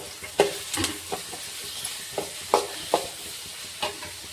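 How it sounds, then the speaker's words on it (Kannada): Onions and green chillies fry in oil for egg bhurji, a soft steady sizzle running throughout. Several sharp scraping clicks of a stirring spoon cut across it at irregular intervals, fairly close and moderately quiet. "ಈರುಳ್ಳಿ ಒಂದು ಸ್ವಲ್ಪ ಎಣ್ಣೆಗ ಫ್ರೈ ಆಗ್ಯಾವ್ರಿ"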